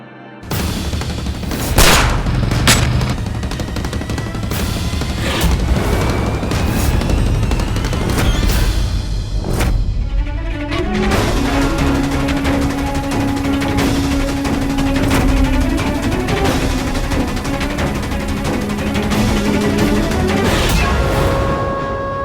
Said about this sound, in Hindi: किसी ने गोली चलाई है?